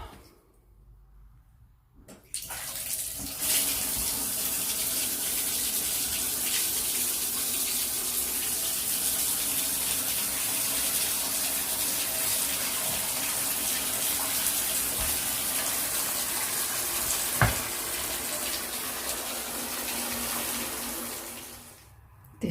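A bathtub fills with running water, a steady loud rushing stream starting after a quiet opening and continuing evenly before fading at the end, with a brief knock partway through.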